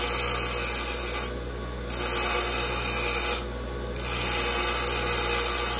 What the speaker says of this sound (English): Take them on your grinder or flapper. Just grind a bevel into that.